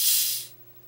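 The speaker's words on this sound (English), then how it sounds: "A cherry Dr. Pepper being opened" Cherry Dr Pepper soda can opened up close, giving a loud, bright fizzing hiss of escaping carbonation that lasts about half a second and then cuts off, leaving only a faint background hum.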